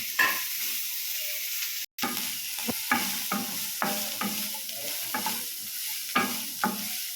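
Onion and green chilli stirred in hot oil while cooking Maggi noodles, a soft continuous sizzle broken by regular spatula scrapes and taps against the pan at an unhurried rhythm, one brief dropout near the start.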